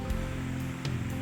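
Constant rushing roar of a natural waterfall at a tourist site in Pesisir Selatan, a steady broadband wash with a low rumble and occasional brief splashy bursts.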